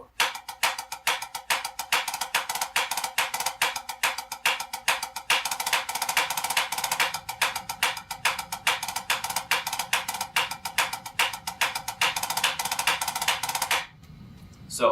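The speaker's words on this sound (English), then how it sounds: "We have a measure of triplets, measure of single drags, measure of triplets, and then a measure of 5-stroke rolls." A snare drum plays a dense, rapid stream of sharp strokes, moving through triplets, single drags and five-stroke rolls. The strokes are close and loud and run for most of the passage, then stop abruptly near the end.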